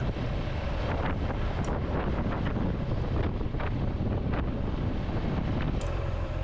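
Strong wind buffets the microphone in a constant, loud roar along Norway's Atlantic coast road, with occasional brief gusts and rustles on top and no voices.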